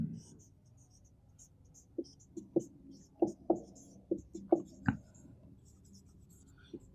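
Short taps and strokes of a pen writing an equation by hand on paper come in an irregular close run, faint and intimate against a quiet room.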